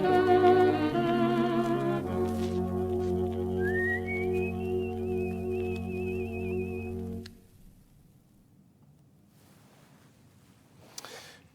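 A rising then wavering whistled melody drifts over a sustained orchestral backing for several seconds on an old 78 rpm BBC radio recording, then the music fades out to quiet room noise.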